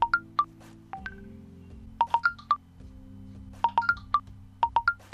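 Phone notification chimes from TikTok: clusters of short, bright electronic beeps in quick rhythmic bursts, repeating several times over a steady low hum.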